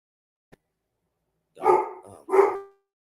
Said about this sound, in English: As soon as he stopped barking, he looked back at me.